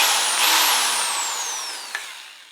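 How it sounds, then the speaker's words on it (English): Power drill spinning a 3 1/8 inch hole saw through a plastic bucket, a loud high whine that slowly falls in pitch as the motor slows, with a brief click near the end. "For this drain to work, you have to have a 3 1/8 inch hole saw."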